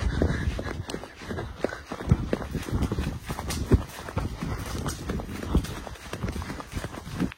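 Horse trotting on a trail ride, hooves clip-clopping in a steady uneven rhythm, close and moderately loud, with riders occasionally talking over the footfalls.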